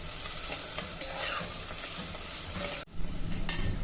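Crushed ginger and garlic sauté in a pan with softened onion, a steady close sizzle broken by scraping stirs and a brief lull before the frying surges back louder.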